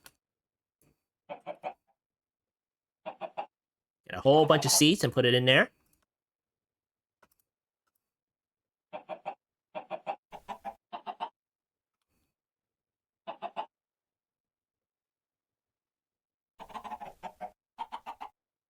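Chickens cluck in the Minecraft modpack FTB StoneBlock 4, in short repeated bursts spaced across the scene, with someone talking over parts of it.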